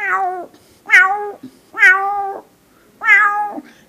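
Four drawn-out meows are imitated by a human voice, close and clear, each a falling, tonal cry separated by brief pauses.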